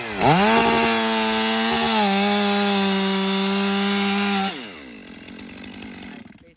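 Chainsaw biting into a tree trunk during felling, the engine held at a loud steady high pitch for several seconds before dropping off suddenly to a lower idle as the cut ends.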